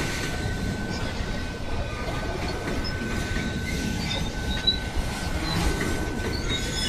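A freight train with tarp-sided wagons rumbles steadily past at Embu-Guaçu, São Paulo, with a constant low roar, faint wheel squeal and occasional clanks from the wagons.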